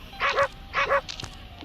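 In the horror video game Endless Nightmare, a dog barks twice in doubled, yelping bursts, close and fairly loud, followed by a few faint clicks.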